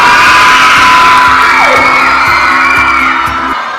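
Fans at a book signing shouting and cheering loudly together, a dense wall of excited voices with whoops, close and sustained, with some rhythmic thumps underneath before it fades slightly at the end.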